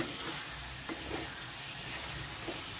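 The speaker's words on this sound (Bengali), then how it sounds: "এবার দিয়ে দিলাম ভাজা আলুগুলোকে দিয়ে মশলাটার সাথে 2 মিনিট আমি কষিয়ে নেব।" Steady frying sizzle with a constant hiss and occasional faint scraping as fried potatoes are stirred with spices in the pan.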